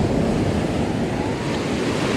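Ocean waves wash in on a beach in a steady, loud roar of surf, with wind buffeting the microphone near the water's edge and no voices.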